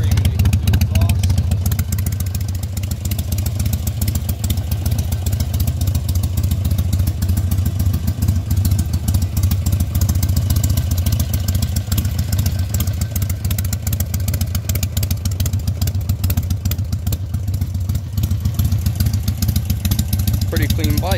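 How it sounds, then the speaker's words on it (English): A 2005 Harley-Davidson Sportster 1200 Custom, cammed, with a Screaming Eagle intake and Screaming Eagle 2 exhaust, idles steadily and loudly nearby in a continuous low, lumpy rumble. "This is my 2005 Harley Davidson Sportster 1200 Custom."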